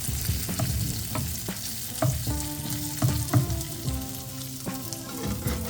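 Strips of bacon fry steadily in a pan for a French toast BLT, with a dense sizzle and scattered spatter pops and a few utensil clicks and scrapes as it is turned, with no talking.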